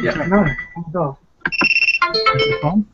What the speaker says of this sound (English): that was just my alarm decided to be a dick to me